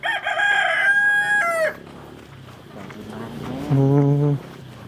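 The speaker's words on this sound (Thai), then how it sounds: "ไก่กินมันนะพี่น้อง" A rooster crows loudly and close at the start, a long strained call, followed by quieter farmyard chicken sounds and a second, lower drawn-out call near the end.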